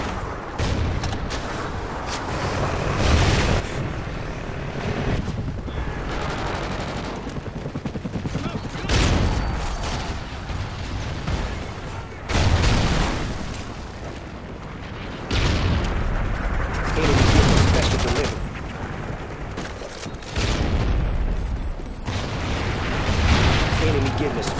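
Trinity rocket strike explosions in Call of Duty Ghosts on the Bayview map, a run of heavy blasts and rumbling gunfire rolling in repeated waves, loud and continuous, with a voice talking over it.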